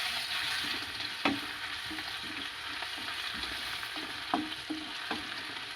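Spoonful of garlic paste frying in a pan for a Bengali fish-head muri ghonto, a steady close sizzle with a few soft stirring knocks and scrapes, no voices.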